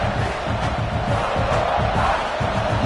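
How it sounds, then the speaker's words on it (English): Stadium crowd in the NCAA 26 college football video game, South Carolina versus Ohio State, producing a steady roar of cheering and yelling with a pulsing rhythm, moderately loud and continuous. "Listen to the crowd energy here in the early going."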